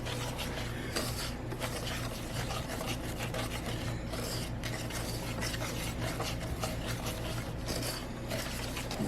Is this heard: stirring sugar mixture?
yes